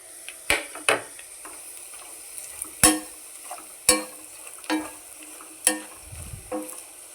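Chili powder, turmeric and salt go into hot oil for mutton biryani, giving a soft sizzle broken by a few sharp clinks and scrapes of a spoon against the pot.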